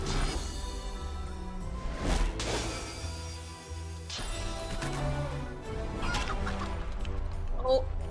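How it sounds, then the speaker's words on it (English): Chicken clucking in the video game Divinity Original Sin 2, heard amid a dense, steady game soundtrack with brief louder bursts, the bird's calls partly masked by the music. "Oh, she's a chicken."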